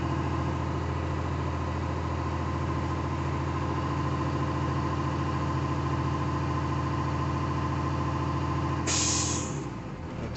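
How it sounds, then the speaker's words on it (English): Bus air compressor running steadily with the engine idling as the air brake tanks fill toward cutout, a loud continuous drone, ending in a sharp hiss of air near the end as the governor cuts out. "I'm going to make sure my tanks fill to a cutout between 120 and"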